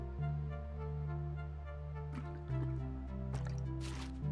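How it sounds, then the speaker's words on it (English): Soft wet squishing and dripping from a hot water bottle being handled in the Unpacking video game, a few faint sloshes over steady tonal background music. "Hot water bottle, that's what it is."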